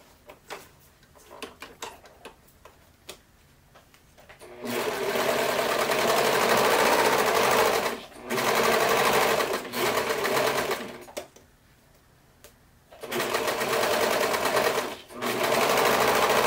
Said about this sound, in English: I will stitch it down on my sewing machine